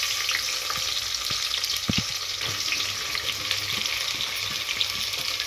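Onions frying in a pan of spice masala until golden, a steady close crackling sizzle with occasional stirring clinks and no talk.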